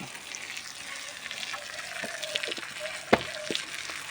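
Fish curry frying in oil as it is stirred, a steady hissing sizzle with occasional spatula scrapes and one sharp clack near the end, no talking.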